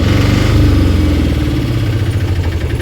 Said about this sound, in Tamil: ரேஸ் பண்ணுறேன், பார்த்துங்க